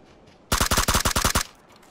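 Suppressed automatic gunfire in the battle royale game PUBG, a rapid burst of about nine close, loud shots lasting around a second, with no talking.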